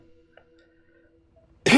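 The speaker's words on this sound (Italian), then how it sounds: "Sta cazzo di tosse, che palle" A single sharp cough bursts out loud right at the end of an otherwise quiet stretch with faint background hum, from a person playing Uncharted: The Lost Legacy.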